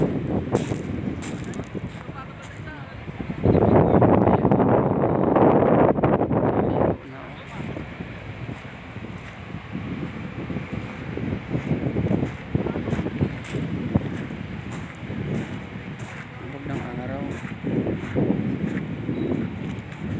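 Strong wind on Dolomite Beach along Manila Bay buffets the microphone in a steady broadband roar, gusting hardest for a few seconds early on, with faint voices beneath.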